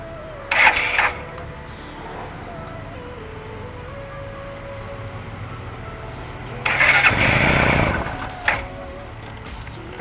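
A Suzuki Gixxer motorcycle's electric starter is pressed twice during an oil drain, each a short loud cranking burst, the second longer and catching briefly, with quiet gaps between.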